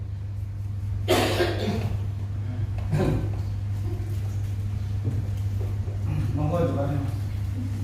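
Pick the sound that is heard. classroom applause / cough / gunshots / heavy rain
cough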